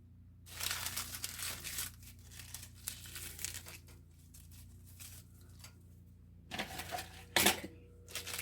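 Fresh spinach leaves are torn by hand over a kitchen pot, giving close, crisp crinkling and ripping bursts in irregular clusters, with quieter pauses between handfuls.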